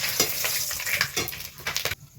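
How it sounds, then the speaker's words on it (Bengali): Whole garam masala spices, bay leaves and panch phoron drop into hot oil left from frying chicken, sizzling loudly and continuously with some stirring, close by, then cutting off. "এই চিকেনগুলো ভেজে নেওয়ার তেলের মধ্যেই এখন আমি এক এক করে ফোড়ন এই যে দিয়ে দেবো"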